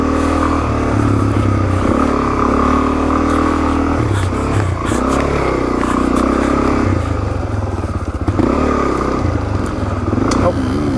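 A Suzuki DRZ400S motorcycle is ridden on a long trail ride near Goose Creek, its engine droning loudly and continuously close up, pitch rising and falling with throttle changes amid wind and rattling.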